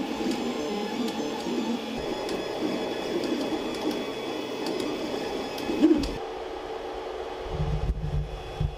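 A Creality CR-10 S5 3D printer hums and whirs steadily while printing a large model, with faint motor tones and small ticks over a constant fan drone; a louder low rumble comes in near the end.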